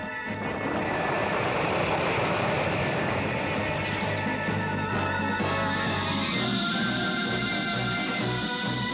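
Airplane engines keep running on a parked plane, a steady loud droning roar with tonal hum throughout, no voices over it.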